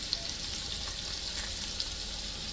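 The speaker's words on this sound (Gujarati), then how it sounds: "એમ વગર નીંજરાવ્યા નાખી દીધા ગરમ ગરમ ખોલતા તેલમાં" Bhajiya fry in hot oil with a steady, close, dense sizzle and crackle. It holds constant throughout with a few sharper pops, and no one speaks.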